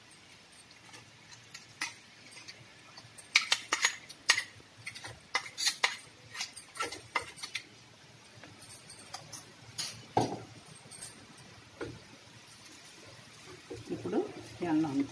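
A spoon clinks and scrapes against a bowl while amla and avisa (flax) seed powder are stirred together, with irregular bursts of tapping and scraping up close.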